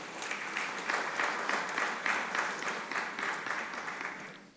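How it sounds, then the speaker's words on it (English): A dense, steady round of applause from a summit audience honoring stakeholders and multi-door courthouses, sustained and fairly close, with no talk over it. "A round of applause for them."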